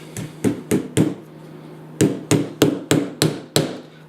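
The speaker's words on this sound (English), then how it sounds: "tap that in there, and then make sure the head of the nail is actually countersunk a little bit so it's not touching the wall" Tiny nails are hammered through fabric into an acoustic panel in sharp, close taps: three quick strikes, a pause, then six more in a fairly even rhythm.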